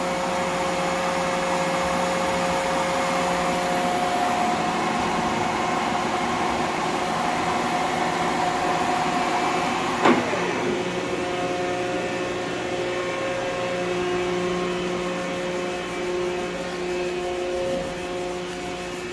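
Union BFT 105 CNC horizontal boring mill with its spindle running at 1,000 RPM after a gear change, a steady mechanical whir with tonal hums and one sharp click midway, no talking.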